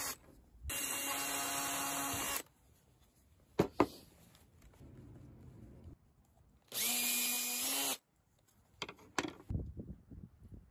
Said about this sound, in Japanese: サイドピースとテンション用の枝に麻紐を通すための穴を開けておきます。